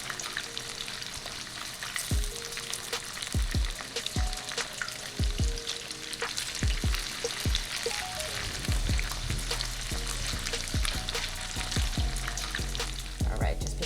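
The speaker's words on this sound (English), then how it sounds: "You hear the sound of the pajeon cooking?" Kimchi pancake batter fries in hot oil in a pan, a dense steady sizzle and crackle punctuated by sharp pops and spatula scrapes, close and prominent.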